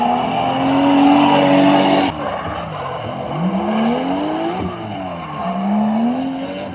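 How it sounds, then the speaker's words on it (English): A drift car at Ebisu Circuit in Japan, during Autumn Drift Matsuri practice and qualifying, does a clutch kick into a transition. The engine revs loud and close, and its pitch swoops up and down with tire noise beneath. "she did a clutch kick to get a snappy transition here"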